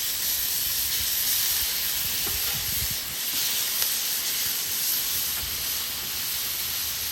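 Frozen Clover Valley burger patties sizzle steadily in a pan just after flipping, a constant close hiss filling the whole stretch with no talk.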